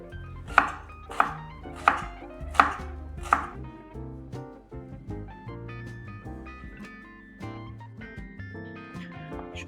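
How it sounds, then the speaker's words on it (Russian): A knife chops garlic finely on a board, five sharp, evenly spaced strikes close to the mic, followed by softer clatter and faint kitchen noise. "Чеснок вот так вот нарежем мелко"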